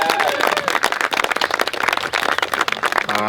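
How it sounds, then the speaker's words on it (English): Wedding guests applauding at a ceremony, a dense burst of hand claps from a crowd lasting several seconds, with a few voices and cheers mixed in. "Round of applause, show of love and support."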